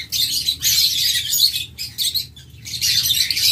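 A pair of albino cockatiels chirps nearby in loud, shrill bursts, with short gaps between the repeated calls.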